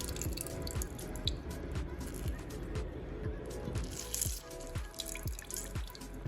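Fruit juice drips and splashes as fruit is squeezed by hand, with irregular wet drops and squishy spatters close up, and faint background noise.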